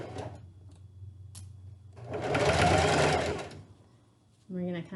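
A sewing machine back stitches fabric for a face mask in a short, close burst of rapid mechanical stitching, with quiet talk before it and a voice right after.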